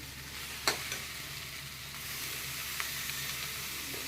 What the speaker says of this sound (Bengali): এবার পনিরটা মিলিয়ে দিই